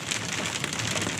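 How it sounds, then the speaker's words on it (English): Pea-sized hail falls on an exposed mountainside during a storm, a dense, steady hiss of countless small impacts with no gaps and no voices. "I'd say pea-sized hail."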